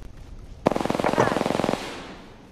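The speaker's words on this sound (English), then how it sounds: "I am taking fire, friends." Automatic weapon fire in the shooter game Apex Legends, a single sharp burst of about a second of rapid, evenly spaced shots, loud and close, fading into a short tail.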